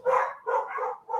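Dogs bark in three quick, loud, close bursts, yappy and slightly strained, with no talking over them.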